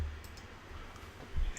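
A single soft computer mouse click, faint and close, with near-silence around it.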